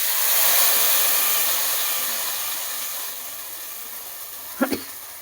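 A prepared spice paste of cashews and raw tomatoes goes into hot oil for a soybean kofta curry. A broad, close sizzling hiss slowly fades over several seconds, ending with two quick knocks of a utensil.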